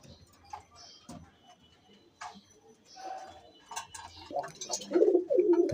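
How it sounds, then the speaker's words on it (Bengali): Two local domestic pigeons cooing near at hand, soft low calls that grow louder and more continuous toward the end, with light ticking and rustling around them. "এখানে দুটি দেশি কবুতর"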